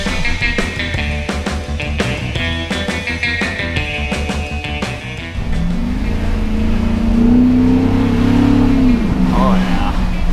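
A Ford Raptor fitted with a Borla exhaust revs and accelerates, its engine note swelling loud and close in the second half after clicking, busy sounds, with voices and cheering over it.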